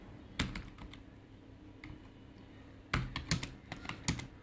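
Computer keyboard typing close by, in two quick bursts of clicky keystrokes separated by a quieter pause, with no talking over it.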